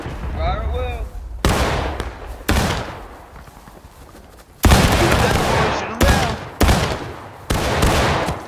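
Musket volleys in the War of Rights video game crack out in repeated loud bursts, about six separate rolling salvos of fire, with a shouted voice heard briefly at the start.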